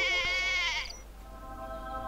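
Sheep bleat loudly in the video game Black and White 2, a long wavering cry followed by a fainter, steadier second bleat.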